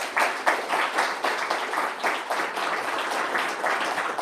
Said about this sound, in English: So big round of applause for Petra and Gudrun